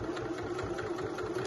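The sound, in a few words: sewing machine stitching in the ditch on pyjama pants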